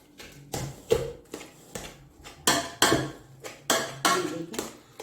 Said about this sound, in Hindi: इसको अच्छी तरह मैं मैश करूंगी।